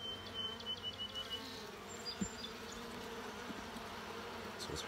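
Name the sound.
honey bees buzzing at hive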